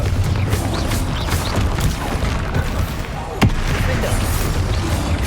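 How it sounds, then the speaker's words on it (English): Confringo explosive spell blasts in Hogwarts Legacy, a steady churn of booming bursts and crackling impacts in a busy battle mix, with one sharp louder blast standing out midway. "Confringo!"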